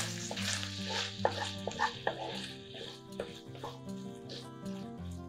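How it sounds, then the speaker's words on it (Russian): Chicken hearts cook in an uncovered frying pan, giving a soft steady sizzle with light stirring scrapes. Tonal music plays throughout. "Снимаем крышку и готовим сердечки без крышки еще примерно 8-10 минут"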